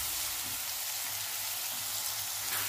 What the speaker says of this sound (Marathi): आता ही डाळ छान परतून झालेली आहे